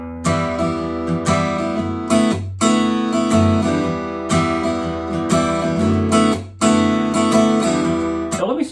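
Acoustic guitar strummed through the chords of a song in a steady alternating pattern, bright and close, ringing continuously with no voice over it.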